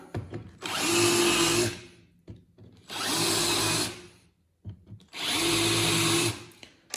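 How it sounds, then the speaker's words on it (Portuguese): A power drill countersinks screw holes in wood in three steady whirring bursts of roughly a second each, loud and close, separated by brief quiet gaps. "Feito os furos, agora é escariar."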